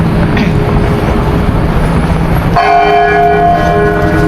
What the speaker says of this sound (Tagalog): So may misa. Kaya may mga tunog ng kampana.